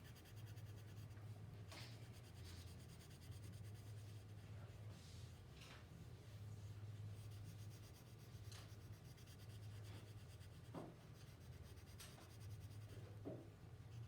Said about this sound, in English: I'm using as hard as pressure as I can without breaking my pencil.